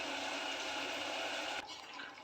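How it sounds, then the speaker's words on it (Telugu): Water poured into a pot of rice for cooking, a steady splashing stream that cuts off sharply near the end, leaving a quieter trickle. "ఒక గ్లాస్ రైస్కి 2 గ్లాసులు వాటర్ పోస్తాను"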